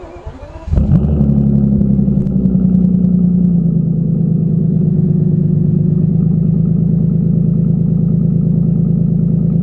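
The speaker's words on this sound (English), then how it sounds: "let's give this baby a cold start. Still got the nice aftermarket demuffled exhaust on the back" A Bentley Continental W12 with an aftermarket demuffled exhaust cold-starts with a brief starter whir, then fires into a loud, deep, rumbling high idle that holds steady and close.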